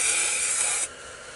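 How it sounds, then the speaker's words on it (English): A steady close hiss of spray paint from an aerosol can fading two colors together, running continuously for most of the moment and then cutting off abruptly near the end. "Now I'm kind of spraying upward that way to fade the two colors together."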